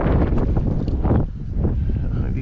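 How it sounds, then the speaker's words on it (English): Wind buffeting a microphone during a river float trip on the Clarion River through the Allegheny National Forest, a steady low rumbling roar close to the mic, with no talk. "if you can hear that wind, it's just,"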